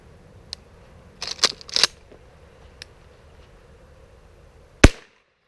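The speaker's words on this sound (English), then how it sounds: "I don't know what happened with that first shot." Shotgun blasts loaded with Remington ammunition during an outdoor dove hunt: a quick cluster of quieter pops, then after a pause one sharp, loud crack standing alone.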